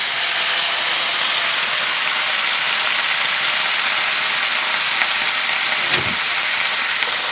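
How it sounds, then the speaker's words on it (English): Marsala wine hits a hot pan of sausage with peppers and onions, giving a loud, continuous hissing sizzle and steam that holds steady throughout. "I'm going to add in the 1 cup of the Marsala wine."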